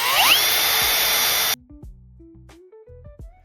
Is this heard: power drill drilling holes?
yes